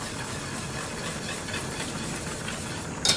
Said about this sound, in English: you have your pasta back here boiling